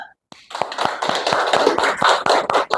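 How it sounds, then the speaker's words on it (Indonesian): A small group in a classroom gives a brief round of applause, with fairly sparse, evenly spaced claps that carry on for a couple of seconds before stopping. "Kalau setuju kita beri aplaus dulu."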